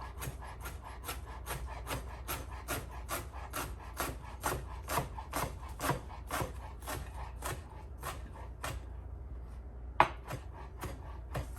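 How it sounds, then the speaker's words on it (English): Chef's knife chopping soft leaves on a wooden cutting board for a barbecue mustard marinade, a fast steady run of crisp close-up taps with one sharper knock near the end. "I am going to use my chef's knife to do this because it does make it a little bit easier to chop things with"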